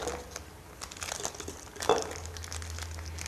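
A piping bag filled with wedding-cake icing is folded over at the top, giving soft plastic crinkling and crumpling with a sharper crunch near the middle, close and fairly quiet with a low steady hum beneath.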